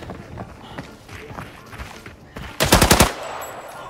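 Gunfire from a mobile first-person shooter game: a tight burst of about five or six loud, rapid shots near the end, following quieter footsteps and ambient game noise, with no talk over it.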